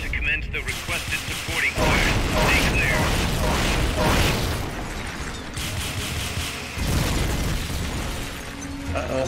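Supporting-fire artillery strike in Metal Gear Solid: Peace Walker, heard as repeated heavy explosions and crashing bursts with mechanical clatter. A voice talks over the blasts.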